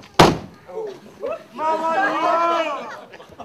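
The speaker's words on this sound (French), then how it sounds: "je ferme la porte, on va voir." A door is pulled shut with a single sharp, loud slam, after which several people talk and shout close by.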